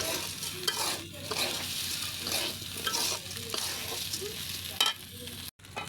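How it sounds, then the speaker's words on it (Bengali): Khichuri fries in a pan while a spoon stirs it, giving a steady close sizzle with scraping strokes all through and a short break near the end. "আর একটু নেড়ে চেড়ে দিচ্ছি, তারপর পানি দিয়ে দিব।"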